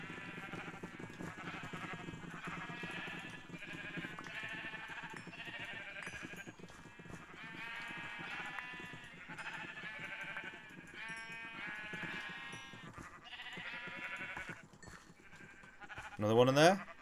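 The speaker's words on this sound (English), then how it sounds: "There are a lot of coloured sheep in here." Sheep in Minecraft, played with the Better than Wolves mod, bleat repeatedly in a steady run of wavering calls at moderate volume over a constant game backdrop.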